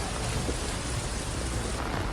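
Heavy rain pours steadily in a dense, unbroken hiss, loud and constant with no voices.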